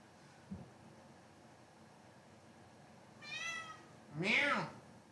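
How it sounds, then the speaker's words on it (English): A cat meowing indoors, two drawn-out meows in quick succession near the end, the second louder and rising, after a faint soft thump and a quiet stretch. "Meow."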